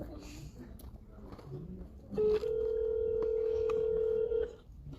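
Telephone ringback tone on an international call, a single long steady tone lasting a couple of seconds, with people talking quietly before it and under it.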